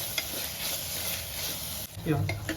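Masala for tomato biryani sizzles and fries in a pan while being stirred, a steady close crackle with a brief scrape and clatter of the spoon near the end.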